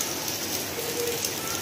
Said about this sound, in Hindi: बारिश में नहाया जा रहा है।